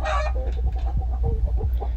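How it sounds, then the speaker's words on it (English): Clucking from a dark blue rooster kept with lighter colored hens, heard as steady close clucks and low murmuring from several birds, with a brief louder call at the start, in a busy pen. "have a dark blue rooster with some lighter colored hens"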